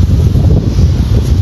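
Strong wind buffets the microphone outdoors during heavy rain weather at Arambaré, a loud, low, gusting rumble that keeps going without pause, with no talk.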